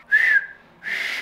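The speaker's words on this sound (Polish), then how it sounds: "dzisiaj nauczymy się, jak gwizdać na palcach" A failed two-finger whistle with the fingers held too close to the mouth gives two airy, breathy whistling bursts of about a quarter second and half a second, separated by a short gap. The sound is fairly loud and close, with no talking.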